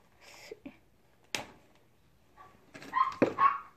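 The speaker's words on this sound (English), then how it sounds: "There go the dogs barking." Several dogs bark and yip at a distance behind a quiet indoor room, a few scattered yelps at first and then a livelier cluster of barks toward the end, with no one talking.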